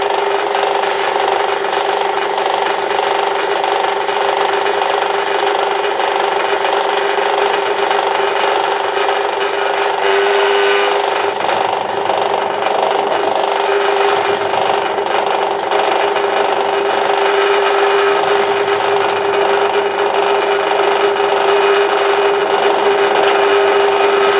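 A Parkside PTBM 500 E5 bench drill press, modified to reduce bit runout, runs continuously with a steady motor whine and mechanical hum that hold an even level, with faint shifts in the drone partway through and no speech.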